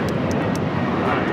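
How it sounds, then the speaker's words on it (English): United Airlines Boeing 737-900ER taking off from LAX, a steady loud roar of jet engines that fills the whole short stretch. "1069 taking off to Chicago on the 737-900ER."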